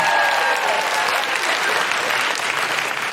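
A comedy club audience at a live stand-up set breaks into applause, a full, even wash of clapping that holds steady throughout.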